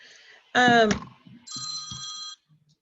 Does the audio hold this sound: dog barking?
no